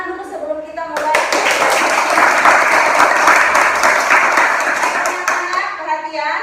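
A school class of children claps together in a lively, dense burst of applause lasting several seconds, close and loud. An adult voice is heard briefly before and after the clapping.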